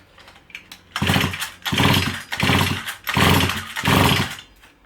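A STIHL FS 38 / FS 55 brushcutter engine is blipped in about five loud, close revving bursts, each a buzzing two-stroke roar separated by brief dips toward idle.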